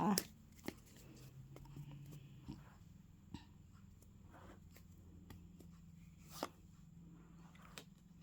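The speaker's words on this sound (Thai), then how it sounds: "ขอเป็นตัวแทนสับไพ่ตัดไพ่ให้คนเกิดวันอังคารค่ะ" Tarot cards are shuffled and cut, with soft riffling, a few sharp card snaps and taps scattered through, close and quiet over a low steady hum.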